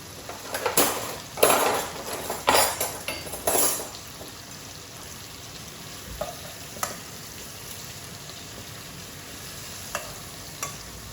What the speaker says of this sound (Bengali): তো আমার ডিমগুলা ভাজা ভাজা হয়েই গেছে।